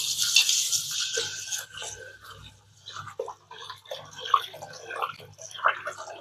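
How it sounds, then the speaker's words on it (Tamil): Millet and rice grains swished by hand in a bowl of water: soft intermittent sloshes, drips and gritty clicks, close and quiet, with brief gaps between stirs. "ஃபஸ்ட்டு கையை கொண்டு ரேஸை அப்படியே அலசிட்டு நம்ம தண்ணி அப்புறம் வெளியில் ஊற்றணுங்க."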